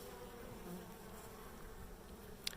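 Honeybees buzz around a hive entrance, a continuous soft insect drone with a brief click near the end, no talking.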